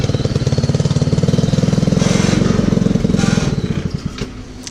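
A 150cc Yerfdog go-kart engine idles close by with a fast, loud, steady putter that surges slightly before easing off near the end.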